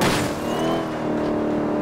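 A Shelby 1000 in Forza Horizon 1 gives a loud, close engine drone that holds steady, with a pitch shift partway through as the car drives.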